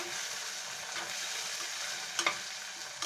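Spices and ginger fry in a little oil while being stirred, a soft steady sizzle with a few brief scraping clicks near the end, fairly quiet and close.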